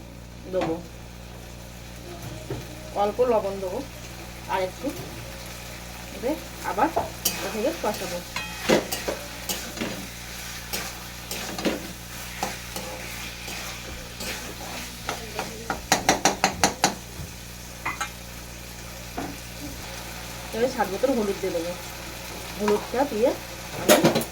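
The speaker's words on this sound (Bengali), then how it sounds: "ছোলাগুলোতে একটু কষাবো একটু স্বাদ মতন লবণ" Boiled chickpeas sautéing and being stirred in a pan with salt, giving repeated scraping, stirring strokes over a soft sizzle, with a voice speaking at times.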